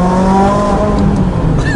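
McLaren 570GT supercar engine revving up under light throttle, a loud close interior drone rising steadily in pitch for a couple of seconds.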